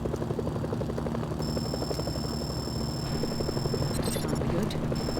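Helicopters closing in during a North Korea combat mission in the video game Mercenaries: Playground of Destruction, a steady rotor drone running throughout under dense game noise, with faint voices in the mix.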